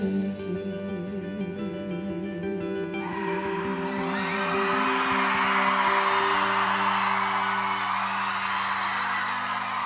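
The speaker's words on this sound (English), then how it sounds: "Listen to this crowd" A live concert crowd at the Enmore cheers and whoops loudly at the end of a performance, the roar swelling over fading music into sustained, dense shouting.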